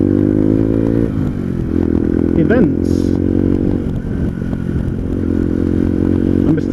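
A motorcycle engine idling steadily at close range, a constant loud throbbing hum with slight rises in revs, and a brief voice heard over it.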